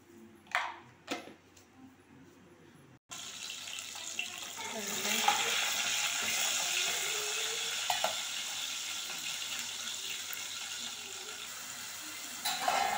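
Cumin and mustard seeds dropped into hot oil for a tamarind sambar, bursting into a loud, steady sizzle after a few soft handling knocks, continuing close and unbroken with no talk.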